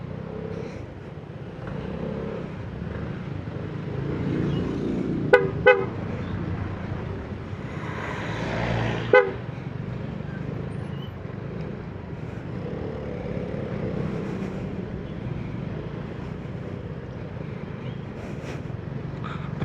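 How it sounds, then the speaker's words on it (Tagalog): Road traffic on the way to Camp John Hay, heard from a Vespa scooter: a steady low engine and road rumble with a couple of short car horn toots in the middle. "Traffic talaga."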